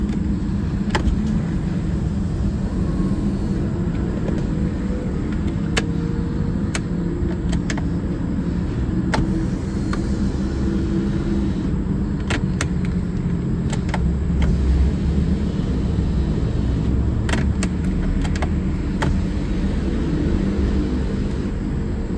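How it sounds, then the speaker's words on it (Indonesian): A BMW E46 fuel pump priming, a faint steady whir with occasional faint clicks, with no speech. "Jadi kita harus 3 kali nunggu pompanya nyala, biarin dia ngeng gitu dulu"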